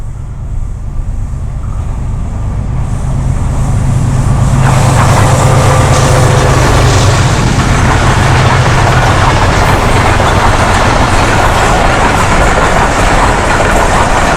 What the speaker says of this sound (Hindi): कराची से पेशावर जाने वाली अवाम एक्सप्रेस रतयाल रेलवे स्टेशन क्रॉस कर रही है।